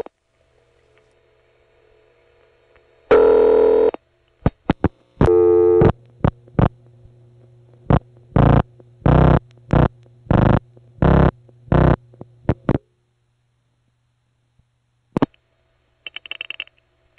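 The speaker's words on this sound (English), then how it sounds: "this is what I would call the low-frequency ring" A low-frequency PBX telephone ring on a New York City intercept line: a long buzzy burst, a few clicks, then a series of evenly spaced short ring bursts, loud and distorted, ending in a faint higher tone.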